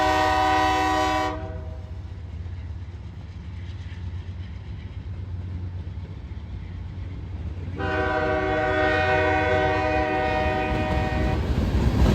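A freight train heading to a Purina plant passes in Palmetto, Georgia, its horn blaring loud and sustained at the start, then a stretch of rumbling cars and wheel noise, before another long horn blast returns and holds to the end.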